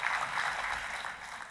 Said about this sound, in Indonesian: kita kasih tepuk tangannya yang meriah buat Tuhan kita